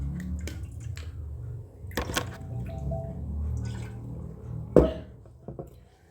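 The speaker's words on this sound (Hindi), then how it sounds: "मैं पानी पी लेता हूँ" A man pauses to drink water indoors, with soft sips, gulps and the small knocks of a bottle or glass, close and quiet, without talk.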